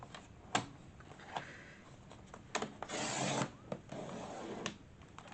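A handheld paper cutter slices thin strips from a Little Golden Book page, giving soft scraping and rubbing strokes with a few sharp clicks, quiet and close with no voices.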